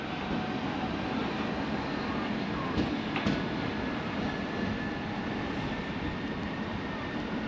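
A Southeastern train runs in the Kent coast area at Margate or Ramsgate, a steady, moderately distant rumble with a couple of sharp clicks partway through and faint talk underneath.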